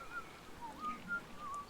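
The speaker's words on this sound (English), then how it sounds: "someone's whistling" Faint, thin whistled notes in the video game Book of Travels, short tones in an irregular, slow tune over a low ambient hum.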